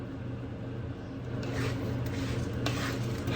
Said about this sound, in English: Now I'm going to stir it a bit more here just to be safe, make sure that it's all well coated with the butter.